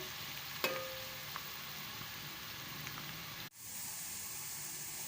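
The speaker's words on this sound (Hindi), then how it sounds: "प्याज हम लाइट ब्राउन होने तक फ्राई करेंगे" Onions fry in a pan toward light brown, a soft, even sizzling hiss with a couple of faint utensil clicks before it cuts off abruptly and resumes.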